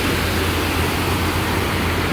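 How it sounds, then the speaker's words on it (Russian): Derekoika river flowing through Yalta, a steady broadband rush of water, loud and unbroken with no voices. "течет река"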